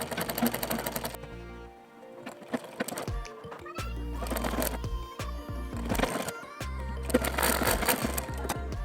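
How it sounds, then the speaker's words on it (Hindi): A sewing machine stitches lace onto a blouse in several loud, rapid mechanical bursts, broken by short pauses and quiet handling of the fabric. "इस तरीके से कपड़े को बिल्कुल बराबर रखते हुए पूरे में सिलाई लगा लेना है"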